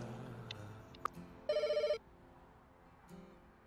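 A telephone in the Pets Hotel simulation game rings with one short burst of rapid, buzzy trilling amid soft game background sounds and a few faint clicks.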